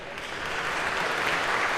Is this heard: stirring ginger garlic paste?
no